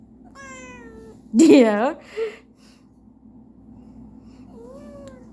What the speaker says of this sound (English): There's a cat in my sink.